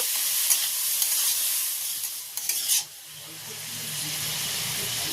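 Vegetables being stirred with salt in a pan for mixed fried rice, a steady close sizzle and hiss with scraping stir strokes, a brief louder burst midway, then a quieter simmering hum.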